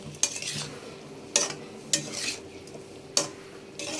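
A spoon stirs sugar and spices into Bengali shukto in a pan, with several sharp metallic scrapes and clinks at uneven intervals over a faint background hiss.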